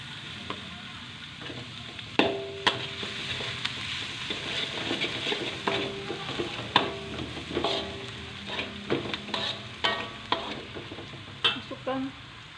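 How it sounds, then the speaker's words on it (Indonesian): Onion and garlic sizzle steadily in a pan while being stirred for an Indian chicken rogan josh, with a spatula clinking and scraping against the metal throughout. "Setelah bawang bombaynya agak kering, kemudian kita masukkan bawang putih."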